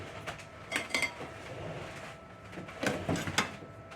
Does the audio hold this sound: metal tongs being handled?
yes